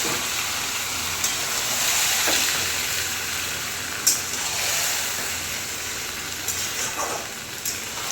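Marinated mutton frying in a pan with softened onions, a steady soft sizzle and hiss running throughout with a few brief crackles, close and even, no voices.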